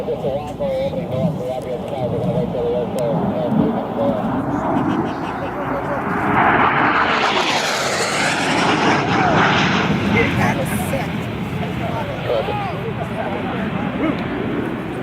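An aircraft engine spools up for a high-speed pass at an air show on a grass field, the roar swelling and sweeping past at close range with a rising then falling pitch, while an announcer talks over it.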